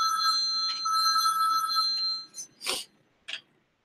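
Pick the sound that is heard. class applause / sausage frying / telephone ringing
telephone ringing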